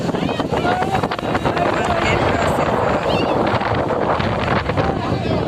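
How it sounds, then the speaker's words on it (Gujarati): Strong wind roars and buffets the microphone nonstop, with indistinct voices underneath, at a Ganesh idol immersion. "પવન જો કેટલો પવન છે"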